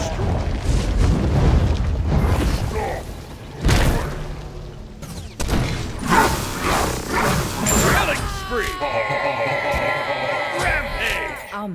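A tower crumbles in Smite as part of a MOBA match, a heavy booming blast followed by rumbling debris, with game voices and dense battle effects layered over it.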